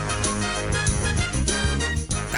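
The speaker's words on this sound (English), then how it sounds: "When you won the jackpot, did it sound like this?" A $100,000 Pyramid slot machine plays its jackpot fanfare, a dense, loud burst of layered electronic tones and jingling music that runs without pause.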